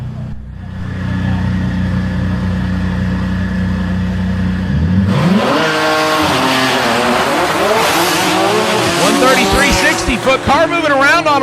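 A drag racing car at a DCT World Cup event idles with a steady drone, then launches with a loud rising engine roar and sweeping revs down the track, a commentator talking throughout.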